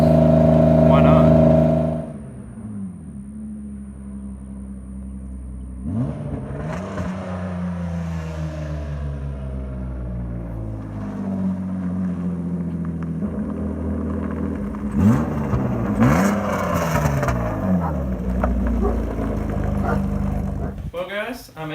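An E34 BMW 525i with a new exhaust drives off with no hood, its engine note rising and falling through several gear changes, loud and close, with an idle burble at the start.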